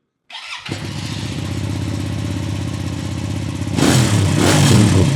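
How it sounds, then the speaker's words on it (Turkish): A Musatti Milanio S400 motorcycle engine starts with a short crank, then settles into a steady, loud idle with rhythmic pulsing, swelling louder near the end as the throttle rises. "bir de makinemizi çalıştıralım bir de sesini duyalım"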